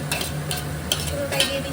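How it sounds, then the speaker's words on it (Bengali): Ginger, garlic and green chili paste frying with onions in a pan while being stirred, a close crackling sizzle broken by several short scraping bursts, with no talk. "এবার এটা ভালোভাবে ফ্রাই করে নেব, কষিয়ে নিচ্ছি।"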